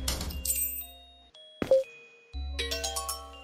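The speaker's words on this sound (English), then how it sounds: "Unlock the door." Key unlocking a door in the horror video game Misao, heard as a short metallic clink and click between stretches of game music and chimes, fairly clear and close.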